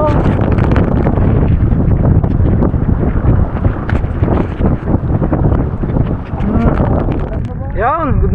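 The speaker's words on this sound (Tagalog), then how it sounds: "Mahangin at may bagyo ata" Strong wind roars and buffets the microphone during a stormy, rainy day at sea, a constant heavy rush with gusty bursts throughout and brief sounds near the end.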